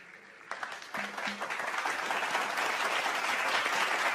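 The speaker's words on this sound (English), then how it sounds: "Please welcome with an applause as he speaks on the human side of artificial intelligence, Ashraf Zaki." Audience applause at a tech conference welcoming a speaker on artificial intelligence, starting with a few scattered claps and swelling into steady, full clapping from a sizable crowd.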